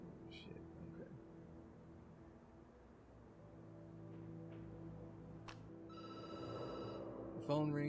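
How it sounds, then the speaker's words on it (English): In the video game Night Call, a telephone rings out in trilling bursts near the end, rising over a low background murmur while a voice talks. "The phone rings and you jump."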